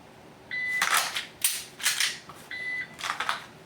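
Pistol fast-draw practice with a shot timer: a sharp electronic start beep, then a single loud gunshot shortly after, and the sequence repeats a second time, with no talking.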